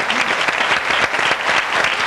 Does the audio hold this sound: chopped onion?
no